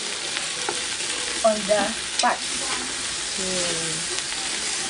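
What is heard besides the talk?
onions added to pot with ginger and garlic, sizzling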